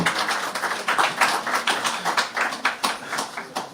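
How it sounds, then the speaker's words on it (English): A crowd claps in a loose, steady patter of many hands at a political speech in Zurich, moderately loud and continuous, with no talking over it. "Shall we give another round of applause to the Vice President"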